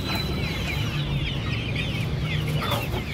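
Golden Misri chickens and a rooster cluck continuously and close up while being put into a bag, their calls dense over a low rustling background.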